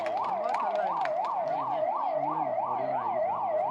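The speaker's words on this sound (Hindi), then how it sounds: "एक बार ये एम्बुलेंस को रास्ता दे दीजिए सब लोग।" An ambulance siren wailing in a rapid, regular rising-and-falling pattern, loud and close, steady for the whole stretch with low road rumble beneath and no talk.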